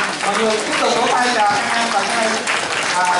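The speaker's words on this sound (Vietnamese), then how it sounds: "mọi người tiếp tục vỗ tay chào các em" A school gathering applauds pupils as a class is welcomed, clapping running under an excited mix of voices and chatter throughout.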